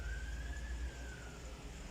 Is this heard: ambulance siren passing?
yes